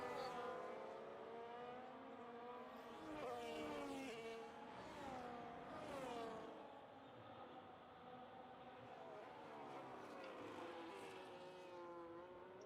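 Race cars from a sim racing video game battling on track at Texas, their engines droning in steady layered tones that swell as they rise and fall, faint and distant throughout.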